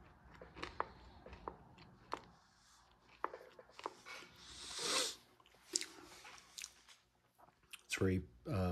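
Lithuanian ration bread with caraway seeds being chewed close to the mouth, with soft crunchy bites and mouth sounds recurring irregularly, a faint hiss in the middle and a voice briefly at the end.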